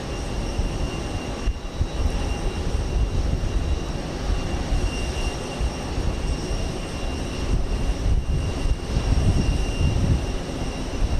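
A Boeing 747 jet airliner at Houston Intercontinental airport, a loud sustained engine roar with a deep rumble and a steady whine, heard from a distance without a break.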